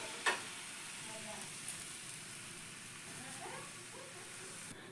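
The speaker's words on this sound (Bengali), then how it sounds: "এই পরোটাগুলো ভাজতে কিন্তু বেশি সময় লাগে না।" Thin flour-and-vegetable paratha batter fries in a lightly oiled pan with a faint, continuous sizzling hiss and one small click near the start, quiet and steady throughout.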